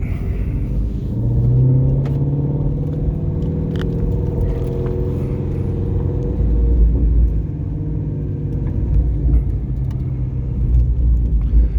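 A 2018 Shelby GT350 with a 6-speed Tremec manual gearbox drives with a deep, loud engine rumble that rises and falls through acceleration, heard close from inside the cabin without talking.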